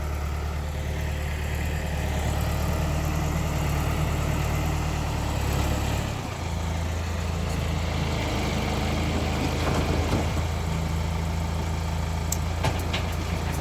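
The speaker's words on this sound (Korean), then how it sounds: "트랙터 운전하는 거 안 보이소?" A farm tractor hauling growing substrate idles and runs steadily nearby, a constant low diesel rumble throughout with a brief dip partway through.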